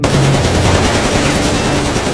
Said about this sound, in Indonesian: Chisato pun menghindar dari rentetan peluru yang mengarah kepadanya